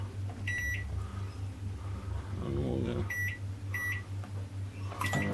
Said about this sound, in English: stick it in the microwave